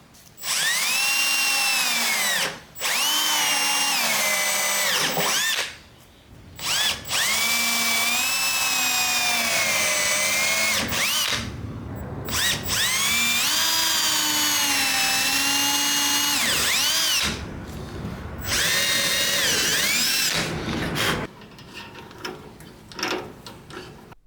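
A power drill drives screws into a mahogany credenza, whining loudly in repeated bursts that rise and fall in pitch, with short pauses between screws and a quieter ratcheting stretch at the end.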